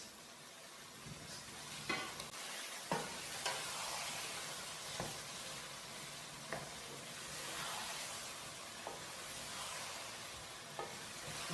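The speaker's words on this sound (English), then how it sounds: "Half a cup of mint, 1 cup of coriander and 5 chilies are going in, and give it a good mix." Chicken biryani being stirred after half a cup of mint, a cup of coriander and five chilies go into the half-cooked pot, with steady sizzling underneath and several sharp scrapes and knocks of the spoon at irregular intervals.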